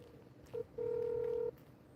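Telephone dialing tones from a phone call being placed again over a shaky connection: one short beep followed by a longer steady tone, fairly clear against faint background hiss.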